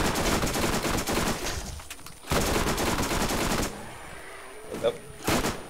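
Rapid bursts of gunfire from the video game Borderlands, loud and dense in several long stretches broken by brief quieter gaps, with a short single shot near the end.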